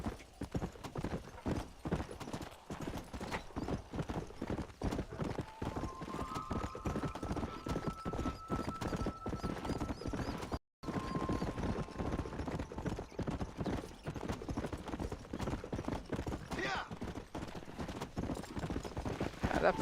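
A horse gallops steadily in the Red Dead Redemption video game, with rapid, close hoofbeats running throughout under game ambience and someone talking, broken by one brief silent gap midway.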